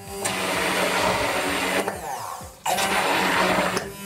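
An electric mixer whirs steadily while blending homemade mayonnaise, with two long bursts of loud, even motor noise and a short pause between them.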